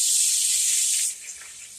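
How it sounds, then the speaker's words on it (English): Unsalted beef broth pours into a pan as a bright, steady splashing hiss that cuts off after about a second, leaving a faint trickle. "I'm going to put some beef broth in this pan"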